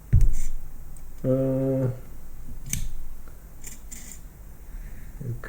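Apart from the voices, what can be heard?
aircraft instrument counter clicking as axle is turned by knob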